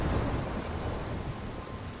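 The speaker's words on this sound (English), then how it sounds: "I'm trapped in a storm." Thunderstorm ambience from the video game Life is Strange, with a steady, dense wash of heavy rain and a low rumbling undertone, continuous and fairly loud throughout with no voices.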